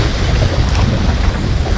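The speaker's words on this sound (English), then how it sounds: "That wind is really picking up quick." Strong wind buffets the microphone on open water from a fishing boat, a loud, steady roar with gusty rumble and wave wash, with no voices.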